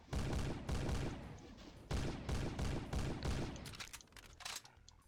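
A sniper shotgun fires in a video game, heavy booming shots repeated in quick bursts, loud and close, tapering off into scattered clicks and rattles near the end.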